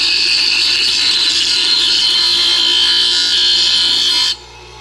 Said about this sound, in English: just went over to the bench grinder and just grind the side flat